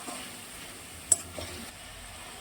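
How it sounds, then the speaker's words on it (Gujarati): Valor beans stirred into a hot tempering in a pan give a quiet, steady sizzle, with one sharp utensil clink near the middle and a softer scrape just after. "આપણે અહીંયા પહેલા તો મિક્સ કરી લેશું વઘાર"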